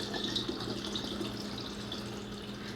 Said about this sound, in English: So as you're pouring, it's foaming.